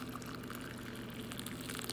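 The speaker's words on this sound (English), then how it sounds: "I literally take this boiling pot of water off the stove and pour it" Boiling water poured from a stove pot into a jar to melt down old candle wax, a steady continuous pour with a constant liquid rush, close and even throughout.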